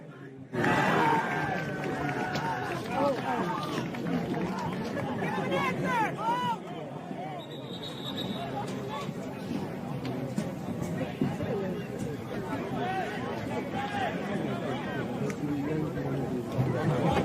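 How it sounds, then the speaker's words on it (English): Crowd at a college soccer game between New Hampshire and Oregon State roars loudly right after a goal, a dense sustained cheer and babble of many voices that stays strong throughout. "This crowd is into it."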